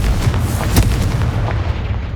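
A Confringo blasting spell in Hogwarts Legacy: a loud, booming explosion with a sharp crack near the middle, rumbling continuously and then fading at the end, with no voices.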